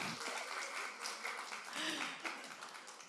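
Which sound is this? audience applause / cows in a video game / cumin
audience applause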